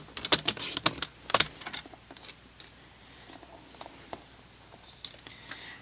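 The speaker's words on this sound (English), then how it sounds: "So just cut that at 5 centimetres and trim that down to 12." Cardstock being trimmed to size for a layered handmade card, heard as a quick cluster of crisp clicks and snips near the start, then sparser faint taps and ticks in a quiet room.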